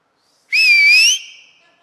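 A single loud, piercing whistle rises slightly and holds for under a second, then fades into a faint tail. It is sharp and close, with no talk over it.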